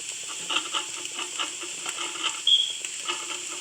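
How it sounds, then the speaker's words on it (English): Chili is stirred in a pot, giving soft repeated scraping and gentle bubbling sizzle, close and fairly quiet, with no talk. "Okay, stir it around."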